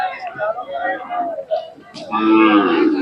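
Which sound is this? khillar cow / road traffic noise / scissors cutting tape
khillar cow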